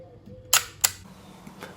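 Shutter of a Plaubel Makina 67 medium-format camera firing: two sharp, close mechanical clicks in quick succession, followed by a couple of fainter ticks, in a quiet room.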